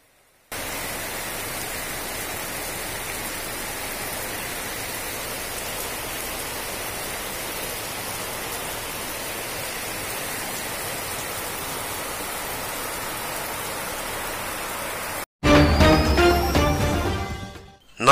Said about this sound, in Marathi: खूप प्रमाणात पाऊस पडिल्लो दिसून येयलो।